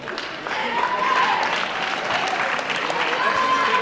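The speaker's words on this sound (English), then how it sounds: "One more round of applause." Audience clapping at John F. Kennedy High School's fall sports awards, a steady, dense round of applause that swells after the first half second and carries on evenly throughout.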